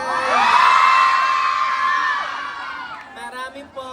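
An audience at a national costume pageant lets out a loud, long high-pitched cheer and whoop from many voices, swelling then fading after about two seconds into scattered shouts and chatter.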